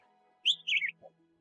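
A Northern Mockingbird sings a short, clear phrase of bright, rapid warbling notes, followed by a brief lower chirp, heard close and alone against a quiet background.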